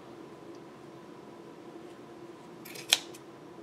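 A single quiet snip of scissors cutting through yarn loops for a pom pom, a brief crisp click over faint steady background hum.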